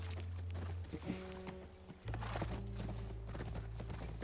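Horse hooves clop steadily over a low engine-like drone, with a faint whinny, from the video game The Last of Us Part 1.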